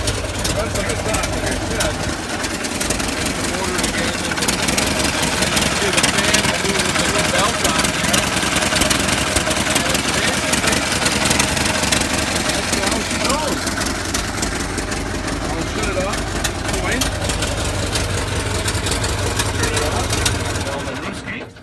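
A 1926 Ford Model T engine idles steadily up close with a constant rough rumble and chatter, while someone talks over it.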